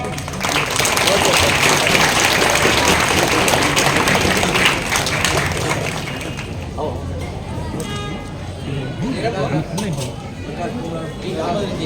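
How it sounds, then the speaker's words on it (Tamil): Loud applause from an audience of women at a community gathering in Salem, dense for about six seconds, then thinning into scattered claps amid crowd chatter. "பலத்த கரகோஷம்"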